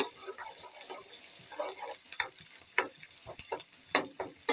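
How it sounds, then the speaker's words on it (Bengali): Spices and onion frying in hot oil, crackling and popping in irregular bursts that grow sharper and louder toward the end. "আমি এটা একটু ভেজে নিচ্ছি।"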